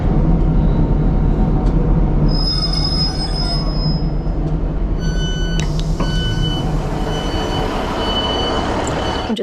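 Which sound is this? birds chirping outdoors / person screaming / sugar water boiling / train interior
train interior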